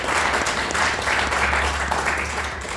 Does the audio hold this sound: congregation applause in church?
yes